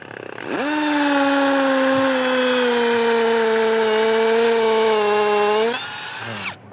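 A Masaru SCDI-105 cordless impact drill, set to hammer mode, whines at a steady high pitch while boring into cast concrete, one continuous loud run of about five seconds that spins up sharply and then winds down.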